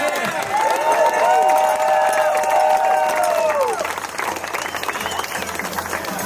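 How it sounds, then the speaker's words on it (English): A crowd at a downhill mountain bike national championship finals claps and cheers for the 2024 national champion, with sustained loud applause and raised voices and whistles over the first four seconds before thinning slightly. "round of applause please for Luke Moir"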